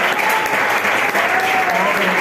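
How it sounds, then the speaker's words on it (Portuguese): Steady, loud applause from a congregation during a church service, a dense continuous wash of clapping with a voice faintly over it. "a irmã receba com as palmas que exaltam"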